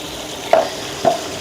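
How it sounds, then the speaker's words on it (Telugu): A green chili, coriander and mint paste stirred into frying chicken for hariyali chicken, two short scraping stirs over a steady sizzle close by. "ఆ మిక్చర్ని ఇందులో వేసి కలుపుకోవాలి"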